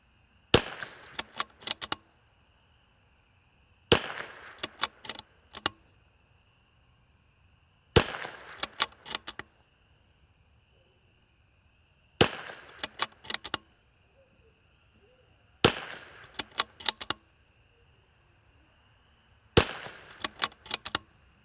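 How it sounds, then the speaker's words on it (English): L3I Stinger rifle fired at a target during an accuracy test outdoors: six sharp, loud cracks spaced a few seconds apart, each followed by brief clattering mechanical noise, with near silence between shots. "we're gonna shoot 10 shots here"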